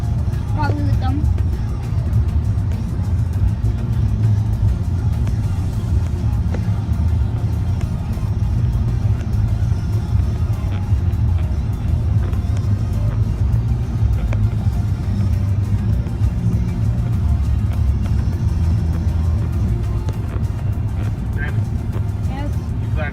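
A truck engine drones steadily as a teenager drives it across a field, a loud continuous low rumble throughout, with occasional voices under the noise.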